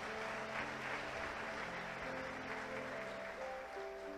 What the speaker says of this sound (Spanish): Aplausos a Cristo Jesús sacramentado